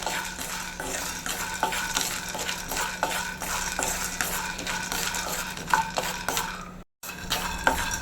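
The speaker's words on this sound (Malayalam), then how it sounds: "നല്ലപോലെ ഒന്ന് കപ്പലണ്ടി വറുത്തെടുക്കാം" Continuous scraping and rattling as peanuts are stirred in a dry pan, with faint sizzling and occasional metallic clinks, close up and steady.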